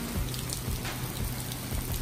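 Steady rain falling outdoors after a spell of hail, a soft, even patter with scattered drops, faint and continuous with no talking.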